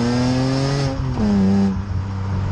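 A BMW E46 M3 with an SMG gearbox accelerates hard, its engine note climbing then dropping briefly at a gear change before pulling again, heard loud from inside the car.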